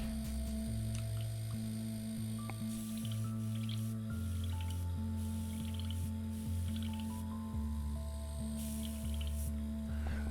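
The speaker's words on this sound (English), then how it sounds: "I'm going to clean out this airbrush just real quick" An airbrush used for miniature painting is flushed out with soft wet squishing and dripping sounds, close and continuous, with steady music running throughout.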